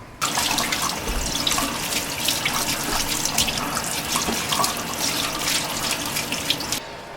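Pork bellies rinsed under a running faucet for home-cured smoked bacon, giving a steady close splash of tap water that runs unbroken from start to finish with no talking.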